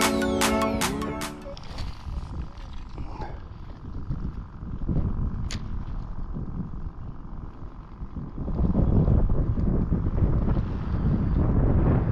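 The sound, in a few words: wind blowing on a lake while fishing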